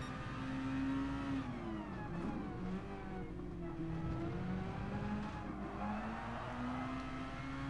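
In Gran Turismo Sport, engines whine and rise and fall in pitch as a racing car surges past, loud and continuous.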